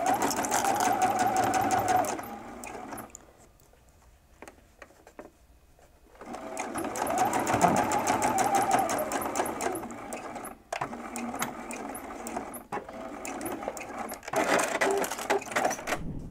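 A sewing machine stitching a beginner's iPad case runs in rapid bursts of needle clatter, pausing for a quiet gap in the middle, then resuming with shorter stop-start runs.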